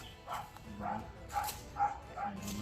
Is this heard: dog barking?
yes